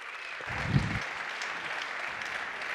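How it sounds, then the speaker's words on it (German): Applause greets a presenter walking onto a stage at a lecture event, a brief swell of clapping from an audience that stays fairly faint and muffled, fading into a steady crowd murmur. "wird Kurt Mosetzer auf die Bühne kommen mit einem herzlichen Applaus"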